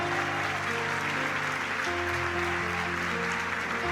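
A church congregation claps together in a steady wash of applause while sustained organ or keyboard chords hold underneath, shifting partway through.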